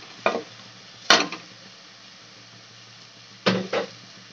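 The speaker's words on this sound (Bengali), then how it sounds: "এবারে এইগুলোকে সব একসঙ্গে মিক্স করব। ভালো করে মিক্স করে নেব।" Onion-tomato masala with coriander, cumin, turmeric and chilli powder, salt and sugar is stirred in a pan for a chicken and taro root curry, giving a few short, close scraping strokes with quiet pauses between them.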